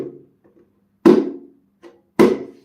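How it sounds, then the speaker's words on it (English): Two dull, muted palm strokes on a bongo head, spaced about a second apart, each with a short thud and quick decay, with faint softer taps between. "you play a mute tone which sounds like this."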